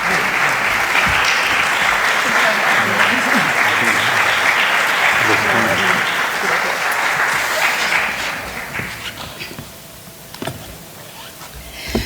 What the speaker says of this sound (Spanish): Con todos ustedes, un fuerte aplauso,